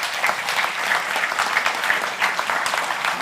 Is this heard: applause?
yes